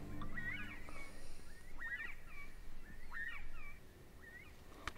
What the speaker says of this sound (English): And it's all you can do to keep up.